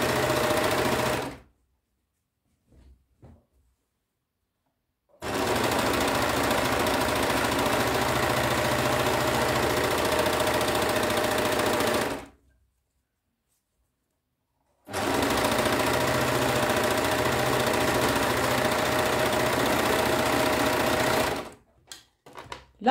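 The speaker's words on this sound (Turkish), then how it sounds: "Dört iplik overlock'umuzda takıyoruz lastiği." A four-thread overlock sewing machine stitches elastic onto fabric in two long, steady runs of loud, even mechanical whirring, with brief quiet pauses between them and no talking.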